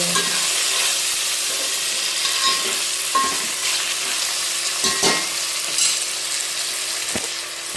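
Tomatoes frying in a pan for chicken pulao give a constant soft sizzle, broken by several light spoon scrapes and taps as the mixture is stirred, heard up close.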